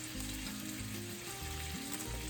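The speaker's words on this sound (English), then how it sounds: "So for now, we're just going to cook the bacon and potatoes." Bacon frying alongside potatoes in a pan, a dense continuous sizzle and crackle heard close up, with a low rumbling hum underneath and no voices.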